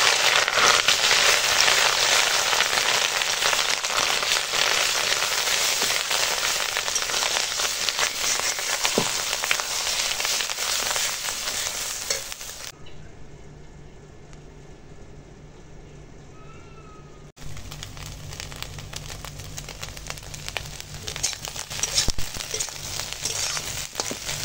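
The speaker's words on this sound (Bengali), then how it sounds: "এখন ডিমটাকে ভেজে দেবো" Steady crackling sizzle of an egg frying in oil, close and dense, fading to quiet for a few seconds before the sizzling resumes more softly.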